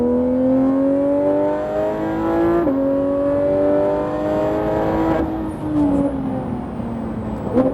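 A Porsche GT3 RS accelerates on the Le Mans Maison Blanche circuit, its engine note climbing steadily in pitch, dipping at two brief gear changes, then rising again, loud and continuous from inside the car.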